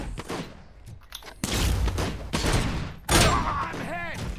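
Gunfire and impacts in Robocop: Rogue City, a few sharp loud bursts and booms scattered among clattering combat noise, with a voice shouting partway through.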